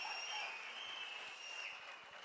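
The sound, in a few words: crowd applauding in a hall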